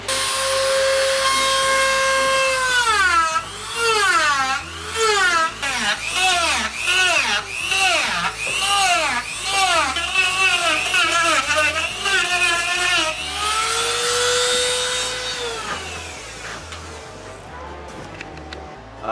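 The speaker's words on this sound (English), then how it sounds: "we're gonna grab a Dremel and we are going to make eyes, and then we're gonna carve all the little hairs on top here" A Dremel rotary tool carves fine hair detail and eyes into a wooden bear, giving a loud, continuous high whine. The pitch keeps dipping and rising as the bit bites into the wood, and the tool winds down at the end.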